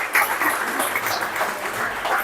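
Audience applause fills a ceremony hall during a Behram Roj Jashan at an agiary, a steady, dense patter of many hands clapping close by with no voices over it.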